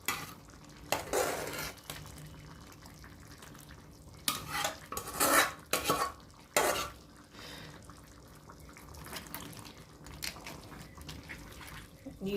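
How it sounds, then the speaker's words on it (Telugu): A spoon stirs boiled gongura sorrel into a crab curry in a pan, with a few scraping, clattering strokes and soft wet sounds over a quiet background, some louder bursts near the middle. "గోంగూర వేసుకుని తిప్పేసుకుందాం."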